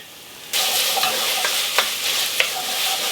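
Tomato stirred in hot oil in a pot sizzles steadily after a quiet start, with a few sharp spoon clinks against the pot over the continuous frying hiss.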